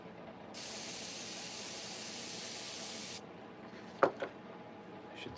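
An airbrush sprays thinned paint onto a chainsaw carving in one continuous sharp hiss lasting about three seconds, followed by a couple of faint mechanical clicks.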